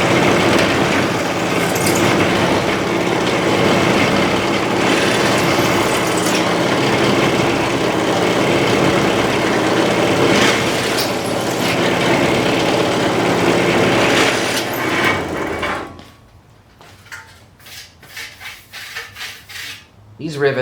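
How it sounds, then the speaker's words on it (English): Drill enlarging pilot holes to 1/8 inch in a metal guitar amp chassis for riveting tube sockets, a loud continuous whirring grind that runs about fifteen seconds, then stops and leaves a few quieter knocks and handling sounds. "so now I'm going to enlarge these pilot holes to 1/8 inch so that I can rivet these tube sockets in place"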